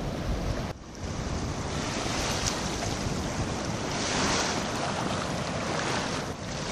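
Waves and surf wash onto a beach at Ermitage-les-Bains on Réunion Island, a steady broadband roar that swells slightly midway, with wind buffeting the microphone and no voices.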